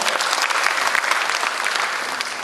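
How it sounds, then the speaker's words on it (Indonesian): Strong, continuous applause from an audience at a women's empowerment event in Indonesia, a thick, full roar of clapping that holds steady for the whole moment. "Tepuk tangan untuk kita wanita Indonesia semua."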